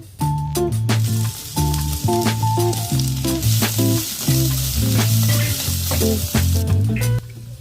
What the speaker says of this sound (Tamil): இஞ்சி பூண்டு பேஸ்ட் ஆட் பண்ணிடலாம்